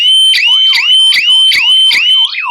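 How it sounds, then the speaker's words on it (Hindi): A loud electronic security alarm siren whoops over and over in a fast, regular cycle, each rising wail followed by a falling chirp, with no other sound. "ये सायरन भी बज रहा है और ये सायरन भी बज रहा है।"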